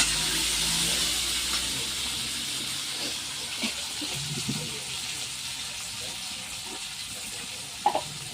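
Water pours steadily into a hot cooking pan of thankuni leaves, giving a continuous broad hiss and sizzle with a few faint clinks and knocks under it.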